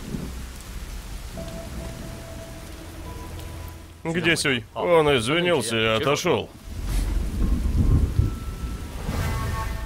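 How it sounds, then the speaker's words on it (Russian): Steady rain falls with low thunder rumbling, briefly quieter while two people talk over it, then swelling into a heavy rumble of thunder and downpour. "Дождь пошел."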